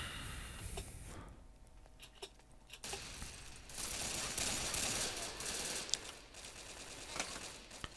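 Gunfire in the first-person shooter Brick Force, a busy battle of rapid shots and bursts, fairly faint and distant at first, then denser and louder with scattered sharp cracks.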